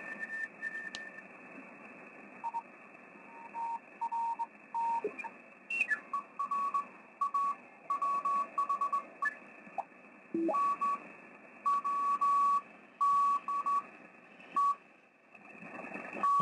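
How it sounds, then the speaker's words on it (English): Morse code CW signals on an SDR receiver, steady tones keyed into dots and dashes with short gaps, clear over a faint hiss of static. "this is kind of neat because we can see the dots and dashes of CW signals"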